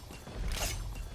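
Weapon reload in Valorant, a short mechanical creak and click sequence with a brief brighter rattle near the middle, heard alone over a low steady background rumble during a pro match.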